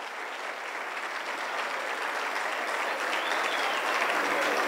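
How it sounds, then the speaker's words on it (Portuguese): Church congregation claps for a group of young people back from a youth camp, a broad, steady wave of applause that swells slightly toward the end, with faint voices mixed into the crowd. "vamos dar um aplauso para esses jovens que estiveram ali"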